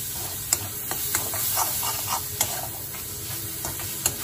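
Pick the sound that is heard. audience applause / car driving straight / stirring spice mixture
stirring spice mixture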